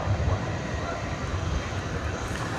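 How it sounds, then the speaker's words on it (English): A Turkish Airlines Boeing 787-9 Dreamliner jet roars steadily at a distance at DFW airport at night, a broad, even engine rumble with no breaks. "This is flight 192, Turkish Airlines, going to Istanbul, 7879 Dreamliner, scheduled to depart at 8:40"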